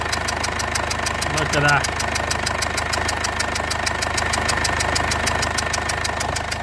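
A Mercedes CLA 220d diesel engine with suspected injector seal faults idles with a steady rapid knocking clatter, close and continuous, while a person speaks briefly over it.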